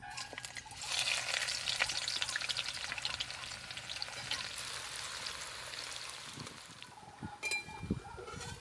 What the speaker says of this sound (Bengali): এই পেঁয়াজটা ভেজে নাও